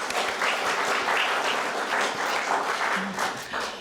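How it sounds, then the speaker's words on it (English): A short burst of audience applause for council candidates at an Eastern Charlotte candidates event, dense and even, tapering slightly at the end. "So a round of applause for our candidates, please."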